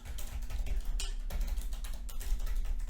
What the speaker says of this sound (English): The typing's going to be in the microphone as well.